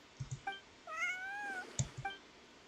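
Cat in Genshin Impact gives several short meows and one longer drawn-out meow, close and clear over a quiet game background, with no talking.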